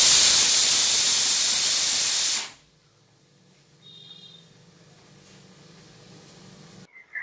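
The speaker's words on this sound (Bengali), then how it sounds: "ভাতটা একটু কমিয়ে দিলাম যাতে পড়ে না যায়।" Rice boiling and steaming in a small cooking pot, a loud broad hiss of steam for over two seconds that cuts off sharply when the heat is lowered, then a low quiet simmer.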